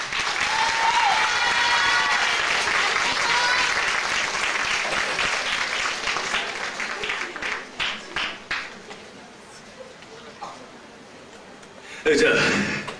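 Concert audience at a 1998 live show breaks into dense, loud applause that gradually thins into scattered claps and fades, then a brief new burst of cheering and clapping rises near the end.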